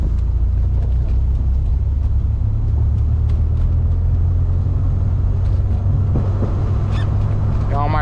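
A Dodge Viper engine revs hard as it accelerates, heard from inside the car as a loud, unbroken low rumble that holds steady throughout.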